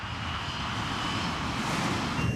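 Airliner engines at high power as a heavy jet climbs away during a missed approach, a steady broadband roar with a faint whine, continuous and fairly loud with no talk.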